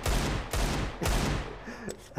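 Rapid automatic gunfire in a CS:GO tournament match comes in three loud, dense bursts about half a second apart, then fades into scattered fainter shots and clinks.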